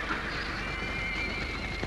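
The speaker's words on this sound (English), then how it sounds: "Diablo's still a wild horse" A wild horse, a black stallion, gives a single loud neigh, a shrill whinny rising over muffled hoof clops and outdoor background noise.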